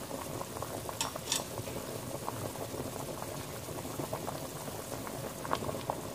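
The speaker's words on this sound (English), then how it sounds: "And now at this point, we're going to put our fish." Pesang tilapia broth boiling steadily in a pot as fish pieces go in, a continuous bubbling simmer with a few soft clinks and splashes, close by with no talking.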